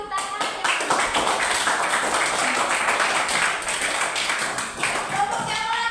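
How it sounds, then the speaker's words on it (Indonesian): Classroom pupils clap together for a group, a dense, lively burst of hand claps close by that carries on steadily for several seconds, with a few voices mixed in. "Beri tepuk tangan ya."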